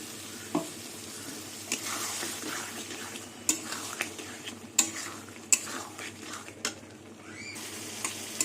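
Prawn and pointed gourd curry being stirred and sautéed in a pan, with a soft continuous sizzle broken by repeated sharp scrapes and clinks of a spoon against the metal. No one speaks.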